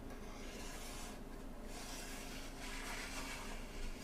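Blued metal miter gauge bar for a table saw sliding through its slot and scraping, a faint, steady rasping rub that swells and fades softly without pause.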